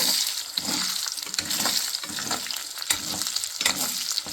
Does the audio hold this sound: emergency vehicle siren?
no